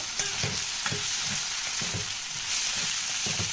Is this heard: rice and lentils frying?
yes